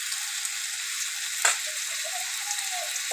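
Small puti fish fry in an oiled pan seasoned with turmeric and chili, giving a steady, fairly soft sizzle with one brief louder crackle partway through and no talking.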